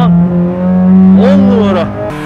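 A Honda Civic Type R on a race track holds a high steady engine note, then revs sharply upward with a quick rise and fall before settling, loud and close, with voices present.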